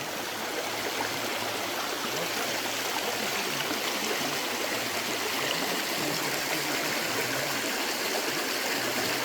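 A person urinating into a flowing river outdoors in southern France, mostly heard as a continuous rushing, trickling stream that stays steady and fairly close for about nine seconds, with no voices.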